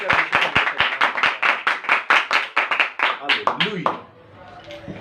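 A congregation at a Christian worship gathering claps loudly together in a quick, even rhythm that loosens into scattered claps and fades after about four seconds.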